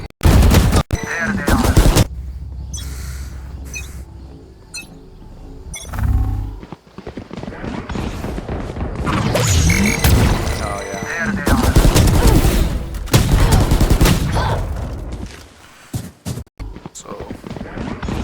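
Bursts of video game gunfire, rapid volleys and single shots, crack out repeatedly amid other game sounds while a person talks over much of it.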